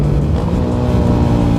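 A Yamaha Sniper 150 motorcycle fitted with a five-spring slipper clutch pulls away under acceleration, its engine note loud and continuous at close range.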